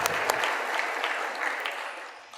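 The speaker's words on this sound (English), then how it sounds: "really a round of applause for the organizers" Dense, steady audience applause fills a conference keynote hall at PyTexas. It is a loud, continuous wash of many hands clapping, holding level throughout with no talk over it.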